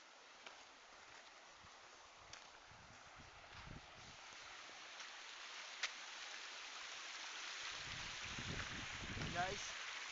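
A clear creek in the countryside, recently flooded, runs with a steady wash of flowing water at a crossing point, a soft continuous rush with a few splashes near the end and no talk over it.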